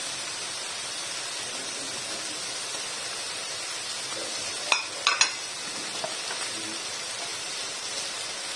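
Spring onions and peas stir-fried in a pan with vegetables, a steady soft sizzle under a few sharp clinks and scrapes of a utensil against the pan.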